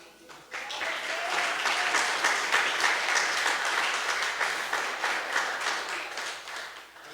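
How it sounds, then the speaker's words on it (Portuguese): A church congregation applauds in a sustained, rhythmic round of clapping that swells quickly and holds steady for several seconds before easing off, with voices faintly mixed beneath. "Aplaude a Ele, igreja,"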